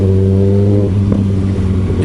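A Kawasaki ZX6R motorcycle engine cruising in fifth gear at low road speed on a test ride, a loud steady low drone with a slight rise in pitch near the end.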